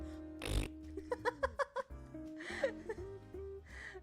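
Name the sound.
mouth imitation of fart sounds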